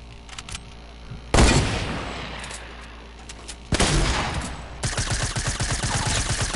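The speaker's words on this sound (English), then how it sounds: "I'm using a fucking SMG." SMG gunfire in a video game rips out in loud, rapid automatic bursts, with a few short shots, then a long heavy stream and a final rattling volley, close and harsh with no talk over it.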